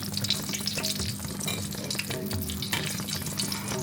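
Chilli pakoras, papad and puris fry in a home kitchen, giving a faint, steady crackle of hot oil with some watery splashing and light stirring noises in the background.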